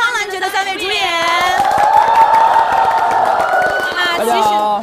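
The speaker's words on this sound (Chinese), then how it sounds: "掌声响起来，让我们欢迎一下苍兰诀的三位主演" Studio audience cheering and whooping as three lead actors of a fantasy drama are welcomed on a live show, loud sustained crowd noise mixed with a prominent voice over the top.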